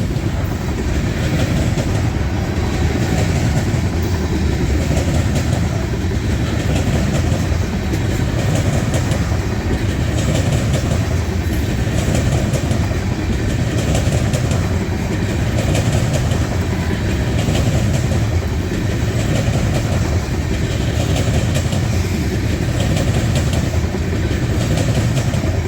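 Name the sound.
CSX freight grain train passing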